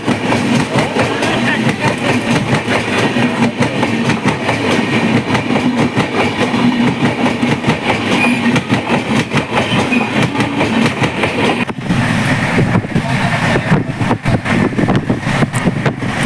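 Continuous loud rumble and rhythmic clatter of a train running over tracks, heard from on board, steady throughout with faint voices underneath.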